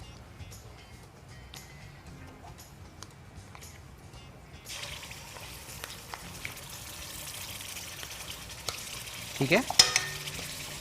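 Ginger garlic paste frying with onions in a pan, a soft sizzle that swells louder midway, with stirring scrapes and clinks toward the end and a brief spoken word.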